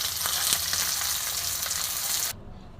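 Rohu fish fillet frying in hot oil in a pan, a steady loud sizzle with small crackling pops that runs unbroken for about two seconds, then cuts off abruptly to near quiet.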